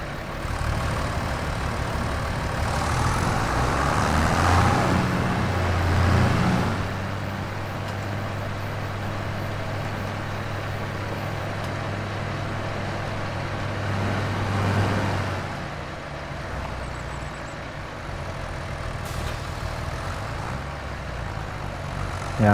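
A John Deere tractor with a hoe attached, driven in Farming Simulator 25, gives a steady low engine drone that swells and dips as it revs, loud and continuous with no talking.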